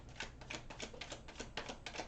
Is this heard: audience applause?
no